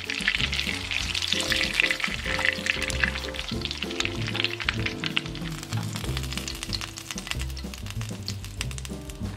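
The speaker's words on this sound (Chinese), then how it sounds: "到最后呢，转大一点的火，油不够呢，锅斜一点，让它煎到金黄" Pork cutlet pan-frying in oil over raised heat, a steady crackling sizzle running throughout beneath a background music bed.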